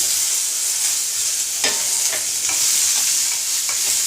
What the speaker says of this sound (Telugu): పచ్చిమిరకాయలు ఫ్రై అయ్యింది ఇందులో ఈ టమాటా ముక్కలు వేసేద్దాం